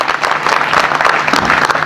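A gathering in Sagar applauds village and town protection committee members, a loud close burst of many hands clapping, dense and uneven with sharp individual claps standing out.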